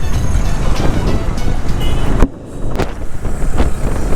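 Strong, stormy, dusty wind roars loudly against the microphone while riding near Pollachi, a steady buffeting rush with one brief drop before resuming.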